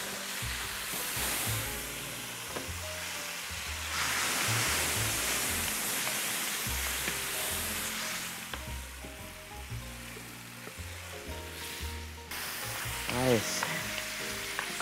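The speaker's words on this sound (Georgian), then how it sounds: "და ვიწყებ აქ ქათმის შეწვას." Chicken pieces fry in a pan with oil, soy sauce, sesame oil and garlic, a steady close sizzle with stirring and occasional clatter, no talking.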